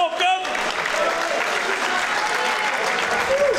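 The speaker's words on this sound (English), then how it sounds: "one last massive round of applause for all the competitors here at Evolution 10 tonight" A crowd at the Evolution of Combat 10 fight event in Morecambe applauds the competitors, a loud, continuous roar of clapping that runs the full length, with a voice over the sound system briefly over it.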